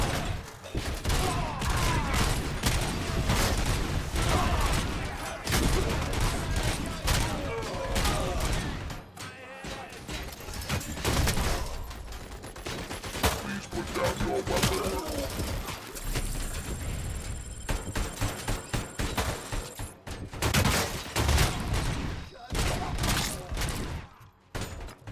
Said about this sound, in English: I figured they'd be shooting at him more.